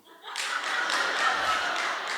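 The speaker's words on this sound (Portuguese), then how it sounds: "É verdade, está aí uma a aplaudir muito." One audience member at a comedy festival show claps hard and fast for about two seconds, with loud, close, rapid claps and no talk over them.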